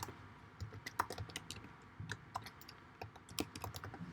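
Someone types C++ code on a computer keyboard, a soft, continuous patter of small key clicks at an uneven pace, close by and fairly quiet, with no one speaking.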